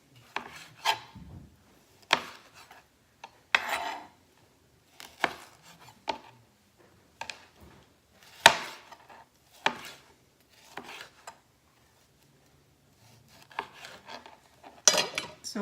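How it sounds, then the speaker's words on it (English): A knife chops whole tomatoes on a cutting board in a kitchen, a series of sharp, close taps and short slicing strokes in an uneven rhythm with brief pauses between cuts. "So you're gonna cut all 3 tomatoes like this."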